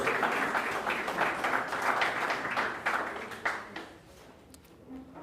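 A crowd at an outdoor environmental awards ceremony claps in a dense, sustained burst, fading toward the end with a few scattered claps lingering; no voices over it.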